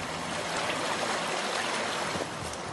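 A river feeding a drinking-water reservoir pond: steady, broadband rushing water flowing continuously, fairly close, with no voices.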